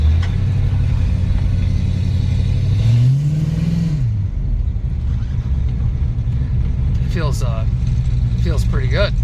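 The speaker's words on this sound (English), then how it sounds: "we're going to hop in and take it for a quick spin around the block" A car engine freshly fitted with a double pumper carburetor rumbles while driving around the block, rising in pitch as it revs and accelerates and then settling into a steady drone; a voice speaks briefly near the end.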